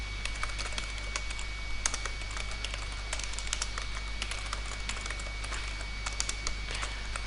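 Code is typed on a computer keyboard as a C# console program is written, with steady rapid key clicks at close range over a faint background hum, no voice.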